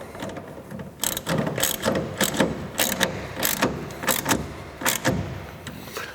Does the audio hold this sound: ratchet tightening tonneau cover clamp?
yes